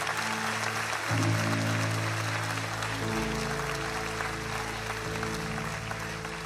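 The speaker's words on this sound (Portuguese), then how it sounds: "Aplauda mais forte." Sustained applause from a large church congregation at a live service, steady and loud throughout, with a low musical drone running underneath.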